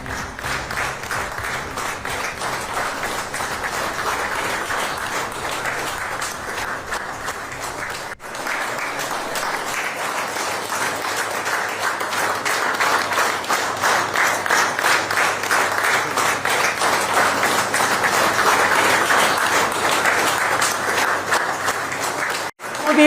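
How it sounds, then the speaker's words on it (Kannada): Staff at the Prime Minister's Office clap steadily in sustained indoor applause welcoming the Prime Minister, a dense continuous patter that briefly breaks and then resumes louder. "PMO ಕಚೇರಿಯ ಎಲ್ಲ ಸಿಬ್ಬಂದಿಗಳು ಚಪ್ಪಾಳೆ ತಟ್ಟುವ ಮೂಲಕ ಅವರನ್ನು ಸ್ವಾಗತಿಸಿದರು"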